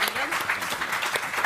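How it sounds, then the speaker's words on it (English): A burst of applause from an audience, dense clapping throughout, fairly close and steady. "join me in a round of applause for our panel"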